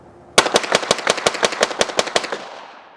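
A rapid string of about fifteen pistol shots fired while testing recoil, sharp close cracks in quick even succession that fade into a short echoing tail, with no talking.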